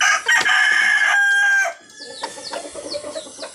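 Black Knight Peruvian chickens in a backyard: a rooster crows loudly and close for about a second and a half, then hens cluck and chatter softly in the yard.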